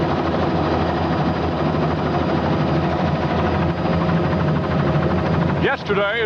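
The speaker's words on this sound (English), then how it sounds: "we flew in helicopter 1 of Georgia State Patrol at Valhalla" Georgia State Patrol Helicopter 1 thrums steadily in flight over a flooded subdivision, a constant loud rotor and engine roar with a voice talking over it.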